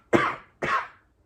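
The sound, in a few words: cough into the elbow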